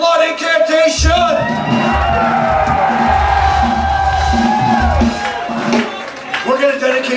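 A metal concert crowd at a live show in a bar and hall roars and cheers for the band, a dense sustained wall of screams and whoops with shouted voices, fading slightly toward the end.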